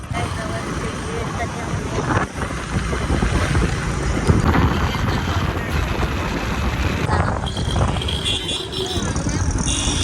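Rumbling engine noise of a moving motorbike with wind buffeting the microphone, continuous and close, with faint voices mixed in.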